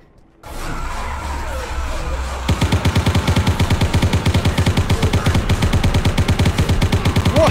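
Rapid automatic gunfire from a weapon in the horror video game Black Butterfly, a long loud burst of evenly spaced shots after a brief mechanical reload clatter, with no talk over it.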